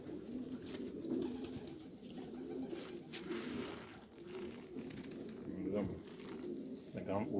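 Pigeons coo in soft, repeated low murmurs close by, with rustling and faint background voices mixed in.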